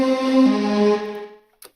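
A breathy synth voice patch from Reason's Maelstrom instrument, run through a Waves MetaFlanger, holds a bright, swirling harmonic tone that fades out over about a second, followed by a brief faint blip.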